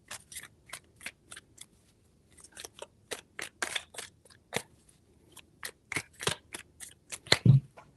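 Tarot cards being shuffled, a sequence of crisp riffling bursts and flicks, quiet and close, separated by short pauses and ending with a soft thump.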